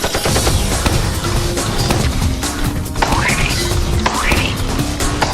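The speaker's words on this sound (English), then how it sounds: "He was tough, shooting bullets at me" Roblox prison-escape game combat in which a robot fires bullets, producing loud, dense, continuous rapid gunfire and crashing hits layered with game effects and a couple of rising tones.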